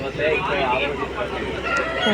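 A rooster crows at a busy chicken market in Vijayawada during rain, a short wavering call close by over a constant murmur of crowd voices and background noise.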